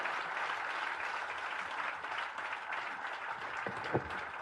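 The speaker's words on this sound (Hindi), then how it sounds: "जोरदार तालियों के साथ माननीय नड्डा जी का आप स्वागत करें" Steady applause from a large audience at a BJP event fills the room, a dense continuous patter of clapping at moderate distance with no voices over it.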